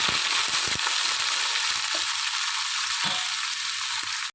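Yardlong beans and potatoes hit hot oil seasoned with panch phoron, giving a loud, steady frying hiss with a few clinks and stirring knocks, no voices.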